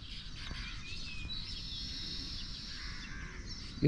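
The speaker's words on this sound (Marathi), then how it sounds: "चिमण्यांचा आवाज जो गायब झालेला तो तुम्हाला ऐकायला भेटला आहे" Sparrows chirp and twitter steadily at sunrise in an open outdoor setting, fairly faint, over a constant low rumble of wind and background noise.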